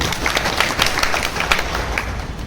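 An audience claps together at a Gujarati talk on natural farming, a dense, steady patter of many hands that holds even across the whole stretch, moderately loud and without a voice over it.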